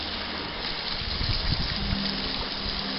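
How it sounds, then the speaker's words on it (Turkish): Fish caught at a stream in Çanakkale sizzle in a frying pan, a steady close hiss with no talk. "Gece balıklarımız tavaya kondu."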